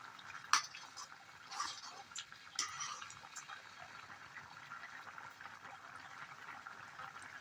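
Pasta water heats in a pot on the stove, making a soft, steady bubbling with a few faint clicks and ticks early on.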